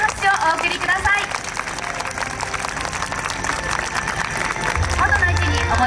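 A crowd claps loudly and steadily at the awards ceremony of the Koiya Matsuri festival finale, with scattered cheers and background chatter mixed into the sustained applause.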